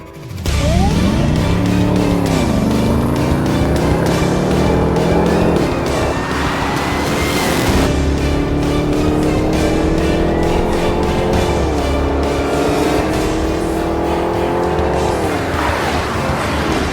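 A fast four-door electric car accelerates hard, its rising whine sweeping upward repeatedly with tire noise, loud and sustained throughout with no pauses.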